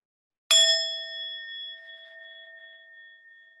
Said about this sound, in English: I'm going to ring the singing bowl